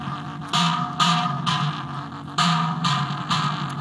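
Distorted drums with sharp EQ and a low-pass filter pound in a steady rhythm, each hit a dark, crunchy, muffled thud, loud and alone.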